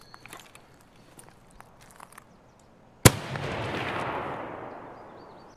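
A single sniper rifle shot in Escape from Tarkov cracks suddenly after quiet footsteps and rustling, then rolls away in a long, loud echoing tail that fades over a couple of seconds.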